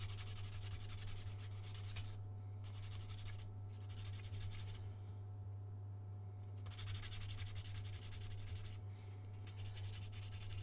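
Continuous abrasive sanding on a scale model tank with a steady electric hum underneath, the scratchy friction pausing briefly a few times before resuming.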